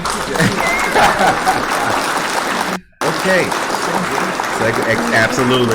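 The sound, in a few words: studio audience clapping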